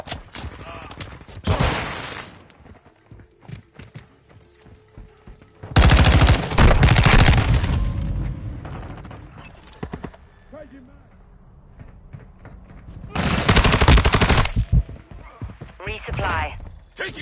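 Automatic and rifle gunfire in Call of Duty Modern Warfare 2 multiplayer, several loud bursts of rapid shots separated by quieter stretches, with a game voice speaking between them.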